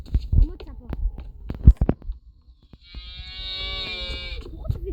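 A person imitating a cow, giving a long drawn-out mooing call after some thumps and short vocal noises, close and fairly loud.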